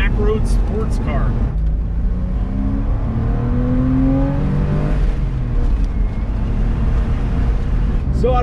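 A 1998 Porsche Boxster heard from inside while driving, its engine droning steadily with rising and falling pitch under road and wind noise, with a person talking over it.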